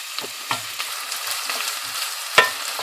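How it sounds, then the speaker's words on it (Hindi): Onions frying in hot oil, a bright crackling sizzle with several sharp spatters and stirring knocks, one louder pop near the end, close and clear with no voices. "तेल गर्म हो चुका है, अब मैं इसमें प्याज डालती हूँ।"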